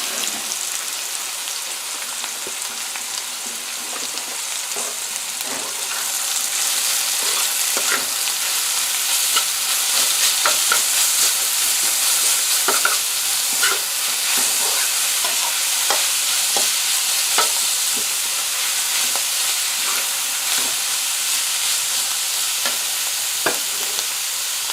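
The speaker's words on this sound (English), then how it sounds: "So we're going to now add our seasoning that we've chopped and ground." Onions, scallions and celery are stir-fried in a hot pan for shrimp fried rice, with a loud, continuous sizzle and crackle that swells after the first few seconds and is broken by irregular scrapes and clicks of the utensil.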